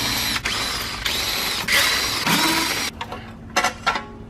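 Work on the valve cover of a 1989 Volkswagen Jetta MK2 diesel engine brings several close bursts of rapid ratchet clicking. Short pauses separate the bursts, followed by a few sharper metallic clicks.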